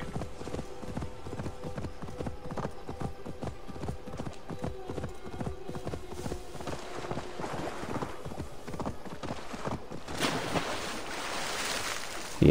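A horse swims through water in the game Assassin's Creed Valhalla, a steady run of rhythmic splashing strokes with a rushing wash of water building near the end, no talking.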